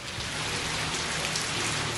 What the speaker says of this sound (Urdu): ملک کے کئی شہروں میں بارش اور سیلاب۔